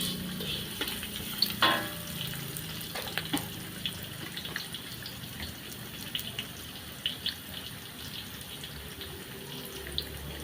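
Food fries in a hot wok over a small flame, a quiet, steady sizzling hiss broken by occasional light clinks and stirring knocks.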